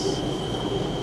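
LRT train rolling along an elevated track overhead, heard from beside a 2025 BMW X3 in Malaysia, a continuous metallic rumble with a thin sustained wheel squeal.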